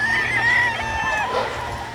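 A brood stag gamefowl rooster, lemon guapo type, crows once in a drawn-out, strained call at close range, with faint background noise and no talking.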